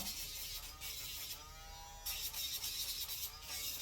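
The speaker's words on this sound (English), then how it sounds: "I'll come through with a Dremel" Dremel rotary tool grinding a dog's nails, a steady high buzzing whine that dips and then rises again as the bit touches the nail, close and moderately loud.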